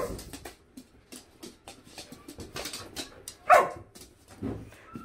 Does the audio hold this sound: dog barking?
yes